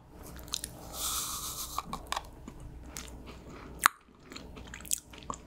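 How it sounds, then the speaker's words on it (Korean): Grape-flavored purple BTS gum being chewed, giving soft, irregular sticky clicks and crunchy bites close to the mic in a quiet room, with one sharper snap midway. "포도 맛이라고 하니까 먹어볼게요."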